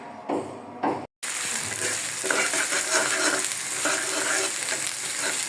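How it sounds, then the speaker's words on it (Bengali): Ginger and garlic fry in oil in a wok, producing a steady, moderately loud sizzle that runs continuously after a brief cut near the start. "আদা রসুনটা দিয়ে দিলাম তেলের মধ্যে"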